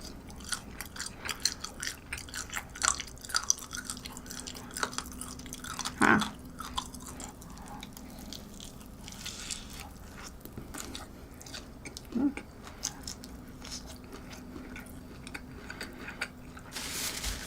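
Close, crunchy chewing of cold but still crispy McDonald's McWings fried chicken goes on steadily, with occasional louder bites and faint background sounds, no talking.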